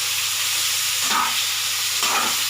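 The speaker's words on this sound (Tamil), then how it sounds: "புளி சேர்த்துட்டு மறுபடியும் நம்ம வதக்கிடலாம்" Pirandai chutney ingredients with tamarind stir-fried in a pan, a steady close sizzle with two brief scraping stirs of the spatula, no voices.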